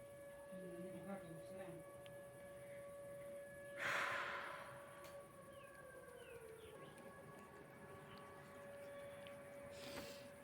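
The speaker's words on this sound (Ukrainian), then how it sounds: "Ви це чуєте? Тривога." A faint, steady air raid siren wails in the distance at night in Ukraine over quiet background noise, with a brief louder rustle partway through.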